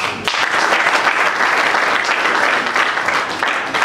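Voters at a UNPC press union assembly at Centre Nganda in Kintambo applaud to elect a vice-president by acclamation, a loud, close, continuous roar of clapping from a packed hall that holds steady to the end.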